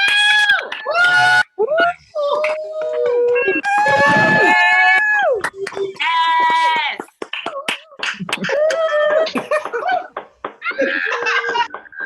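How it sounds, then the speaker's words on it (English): People on an unmuted group call at a book launch cheer, scream and laugh loudly, many voices overlapping in bursts of excited whoops and giggles, close and lively. "let's unmute everyone so people can scream and cheer for our amazing readers"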